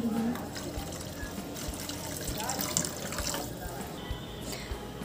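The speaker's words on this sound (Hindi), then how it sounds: "अब इसमें हम डालेंगे पानी।" Water is poured into fried masala in a pan while making aloo paneer kofta gravy, a soft splashing pour under a speaking voice.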